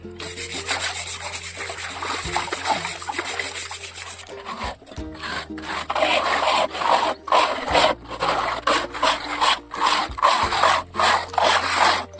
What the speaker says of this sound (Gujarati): આ ઉખરાબ હતું, ઘસી ઘસીને આવું કરીશું.